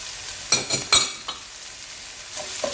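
Cumin seeds and chopped green chillies stirred in hot oil in a pan, with a few sharp scrapes and clinks of the spoon over a quiet background sizzle, then softer stirring.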